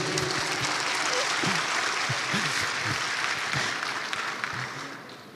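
A seminar audience claps together, a dense steady wash of applause that holds strong for several seconds, then thins and fades toward the end, with faint voices mixed in.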